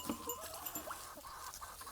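Goats bleat repeatedly inside a chicken pen, several wavering calls close by over a steady farmyard background.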